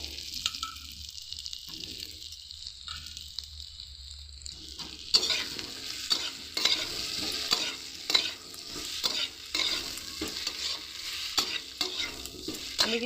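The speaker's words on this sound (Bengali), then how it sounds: "এরপরে আমি দিয়ে দেবো ভেজে রাখা আলু।" Fried potatoes are stirred into a vegetarian soybean curry sizzling in a pan, with quiet frying at first, then a brighter sizzle and repeated rhythmic scraping strokes of the spoon.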